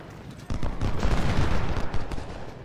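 Massed musket volleys in Ultimate General: Civil War, a rolling crackle of overlapping gunfire swelling in and sustaining for a couple of seconds, moderately loud and slightly distant.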